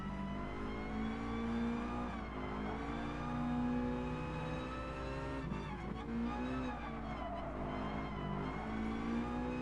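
Lancia Delta hatchback racing in Gran Turismo Sport, a steady droning engine note held at high revs with small pitch dips and rises as it shifts, loud and continuous with no talk.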